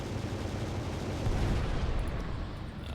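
Kinetic guns on a battleship in the video game Final Theory fire as a dense, continuous rumbling barrage, loud and steady throughout with no distinct pauses between shots.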